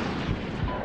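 A Hellfire missile launched from the air in Medal of Honor (2010), a brief, loud, rumbling whoosh with a dense low roar that fills the moment and has no talk over it.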